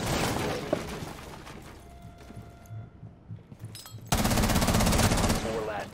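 Gunfire in Rainbow Six Siege, bursts of rapid shots followed by a quieter stretch with scattered mechanical clicks, then a loud sustained burst of automatic fire near the end.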